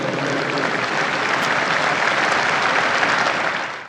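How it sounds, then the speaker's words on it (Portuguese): Broad audience applause, a dense continuous roar of many hands clapping at steady volume for a few seconds, then tapering off right at the close. "Uma salva de palmas a este jovem beato tão valente"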